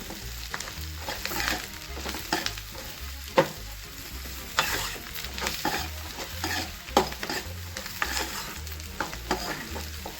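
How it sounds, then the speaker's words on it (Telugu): Tamarind frying in a pan for peanut chutney, giving a close, continuous sizzle broken by repeated stirring scrapes and occasional sharper knocks, with no speech. "ఇప్పుడైతే చింతపండు కొంచెం వేసుకుంటున్నాను ఫ్రై చేసుకుంటున్నాను"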